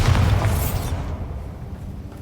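A Bombarda blast spell detonating in Hogwarts Legacy, one loud booming burst at the start that decays into a fading rumble and crackling debris.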